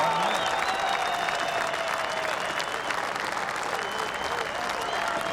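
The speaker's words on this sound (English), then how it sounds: "I believe the applause might not be for Jamie, but could be for Gavin Millis over on peg 4." Spectators at a FishOMania fishing match clap in sustained, moderately distant applause, a dense patter that holds steady throughout with faint tonal sounds drifting above it.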